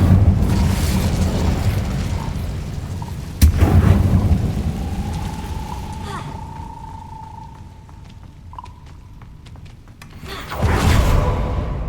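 Casting the Incendio fire spell in the video game Hogwarts Legacy gives a sudden whooshing burst followed by crackling rumble, with a second loud fiery surge toward the end over continuous game ambience.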